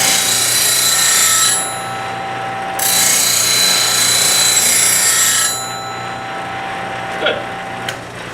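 A bench grinder sharpening a woodturning skew chisel gives a steady, loud mechanical whine, with the tone shifting between stronger and softer stretches as the blade passes across the wheel, plus a couple of faint ticks near the end.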